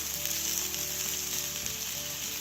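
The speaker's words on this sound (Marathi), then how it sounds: "ही कापं जी आहेत त्याला पलटी मारायची. चांगली सुरसुरीत भाजायला पाहिजे ती" Slices of jackfruit and raw banana fry in a pan on the stove, giving a steady, close, continuous sizzle with soft crackling and no voices.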